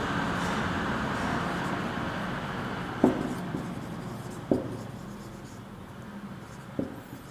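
Marker or chalk writing on a board during an accounts class, soft scratchy strokes with a few sharp taps at the ends of strokes over quiet room noise and a faint distant traffic hum, no talking.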